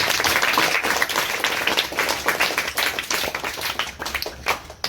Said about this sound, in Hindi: नीतू के लिए ताली बजा दो